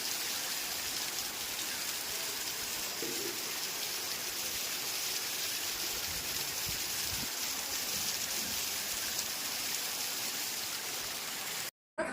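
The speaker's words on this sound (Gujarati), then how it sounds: "ધોધમાર વરસાદ પડી રહ્યો છે" Heavy monsoon rain pours down steadily, a dense, even roar of drops on surfaces that fills the whole span, with no voices, before cutting off abruptly at the end.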